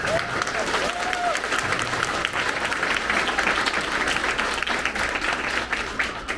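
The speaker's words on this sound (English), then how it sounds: "Let's give them a big round of applause." Audience at an elementary school sixth grade promotion ceremony applauding the sixth grade teachers: a dense, steady wash of many hands clapping at even loudness, with a few cheers mixed in.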